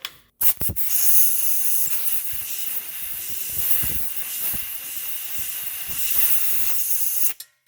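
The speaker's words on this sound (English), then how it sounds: "now get the blower. We're gonna blow that shit all out" An air blower forces a hard, continuous hiss through the front suspension of a 2008 Subaru Impreza during a ball joint replacement. Sharp clicks start and stop the blast, which rises and falls slightly over several seconds.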